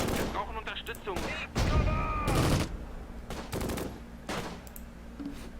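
Scattered gunfire bursts from a World War II tactical video game set around Caen, with several short volleys and single shots spread across the clip, moderately loud amid game ambience.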